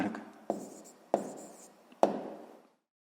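Pen strokes scratch out a math answer on paper for a sixth-grade exercise, three quick sharp taps each followed by brief rubbing, close and quiet, then silence.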